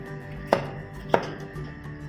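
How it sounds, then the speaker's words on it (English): Knife slicing vegetables diagonally on a cutting board for a fish dish, two crisp, evenly spaced chops standing out over a steady low kitchen hum, no voices. "So cut it into a triangle shape or a diagonal shape"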